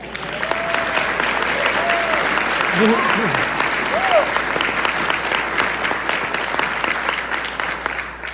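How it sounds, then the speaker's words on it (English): A dinner audience claps a long, steady round of applause, with a few voices calling out briefly over the dense clapping. "I think it's time we gave her a round of applause"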